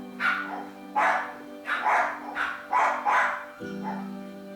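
A pet dog barks about six times in an uneven series of sharp, fairly close woofs, each short and separated by brief pauses, over a faint steady hum.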